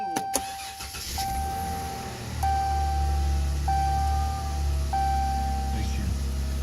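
A flooded Ram pickup truck is started with the key, with repeated warning chimes pinging at an even pace over a low engine rumble that swells after cranking. A voice speaks briefly nearby.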